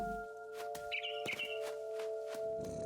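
Bird chirping in What Remains of Edith Finch, a few short bright tweets near the middle of the clip over a steady tonal game ambience and soft thumping steps.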